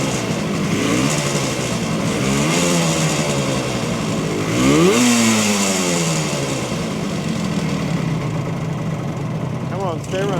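A 1970 Suzuki T350 motorcycle engine runs steadily as it warms up, a continuous loud buzzing two-stroke drone with a few rising blips of revving near the middle and end.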